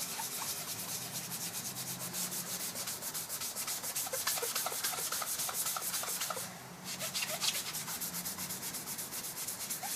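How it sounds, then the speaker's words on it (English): Sanding away the remains of a factory-applied protective coating, a steady, close rasping rub with rhythmic back-and-forth strokes running the full length, briefly easing off for a moment before resuming. "we're actually sanding off what's left of this protective coating"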